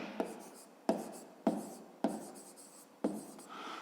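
Pen strokes on paper during a fifth-grade maths exercise, heard as five sharp scratching onsets spaced under a second apart, each trailing off in a short rub, close and fairly quiet with no talking.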